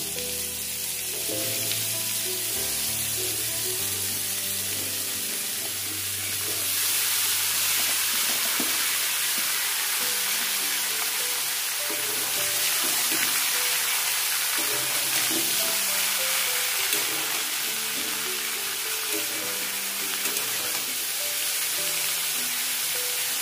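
Washed bottle gourd hits hot oil and a fried tempering with poppy seeds for a Bengali prawn and gourd curry, giving a steady, close sizzle and frying hiss that swells louder partway through and holds for the rest of the clip.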